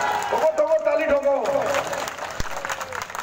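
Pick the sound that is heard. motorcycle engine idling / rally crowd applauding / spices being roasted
rally crowd applauding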